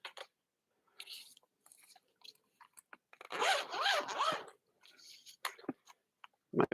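A folder bag's zipper drawn open in a couple of rasping pulls, close by, with rustling and handling noises around it and a voice speaking briefly.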